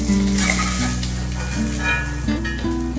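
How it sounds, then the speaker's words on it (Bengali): Tangra fish fry in a pan of hot oil with a steady, close sizzling hiss, partly overlaid by a tuneful background melody, with no speech. "দেখুন আমি মাছগুলা লাল লাল করিয়া ভাজা করছি।"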